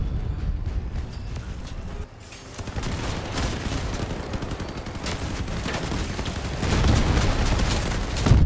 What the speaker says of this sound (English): Another Leviathan is shooting me, though.